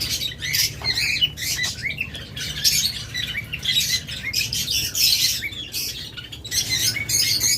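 Caged lovebirds and budgerigars offered for sale chirp and squawk in a busy, overlapping chorus, shrill and continuous, over a low background hum.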